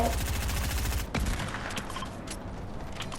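Rapid gunfire in the Fortnite video game, a dense burst of automatic shots for the first second, then a sharp report followed by scattered fainter shots and game noise.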